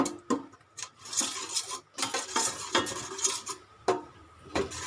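Store-bought red curry paste stir-fried in a pan for chicken curry with pickled bamboo shoots, with quick rhythmic metal scrapes and taps of a utensil against the pan, close and busy, over a light sizzle.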